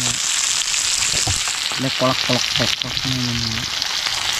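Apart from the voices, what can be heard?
fish frying in hot oil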